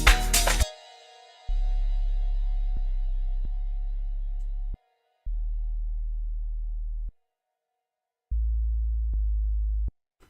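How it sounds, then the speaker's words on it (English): A deep sine-like amapiano bass pitched down twelve semitones in FL Studio Mobile plays three sustained low notes separated by short gaps, clean and loud, after a brief bright hit at the start, with no voices. "drag the pitch to -12, just -12, so we can get that nice deep bass."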